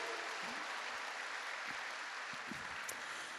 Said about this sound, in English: another round of applause for Erin Harrington